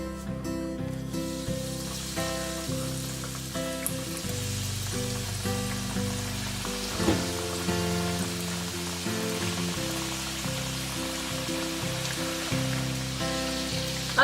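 Chicken strips frying in hot oil, a steady crackling sizzle that runs throughout, moderately loud with faint clinks over it and no talking.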